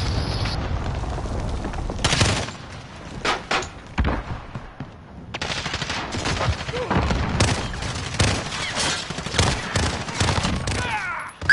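Call of Duty firefight with repeated loud gunshots and bursts of automatic fire, close and irregular, separated by brief lulls, with players talking over the action.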